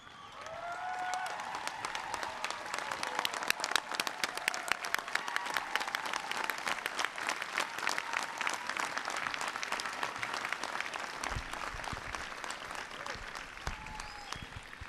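An audience at a Rice University commencement gives graduates a long, steady round of applause. Dense clapping fills a large hall at moderate distance for the full stretch, with a few scattered voices faintly beneath it.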